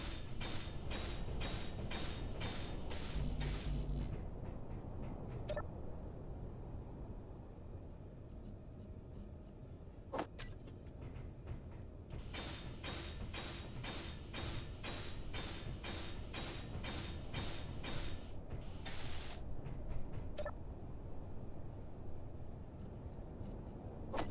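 A welding tool in Space Engineers fuses steel floor plates, giving repeated bursts of rapid, crackling ticks in rhythmic runs, separated by short pauses and sharp clicks, all at low volume with no voices.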